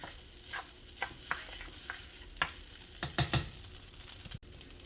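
Cooked rice frying in a pan for restaurant-style Chinese fried rice, with a steady low sizzle broken by irregular scraping stirs and a few louder clatters of the utensil, close by and without talk.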